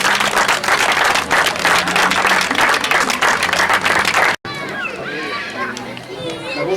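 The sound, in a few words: applause for the festival's artistic director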